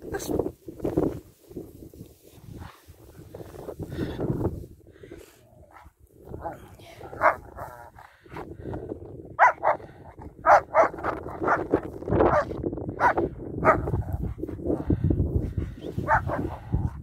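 A dog barks repeatedly in short bursts nearby while a person talks and footsteps shuffle in the background.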